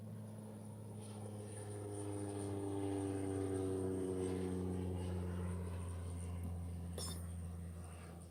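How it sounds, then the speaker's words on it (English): A propeller plane drones overhead, its steady engine hum swelling louder through the middle and then slowly fading as it passes. "I don't know if you heard that plane."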